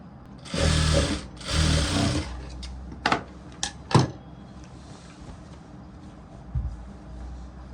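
Sewing machine stitching a long garba-style blouse, two loud whirring bursts followed by a few short clicks and taps, then quiet, with no talk.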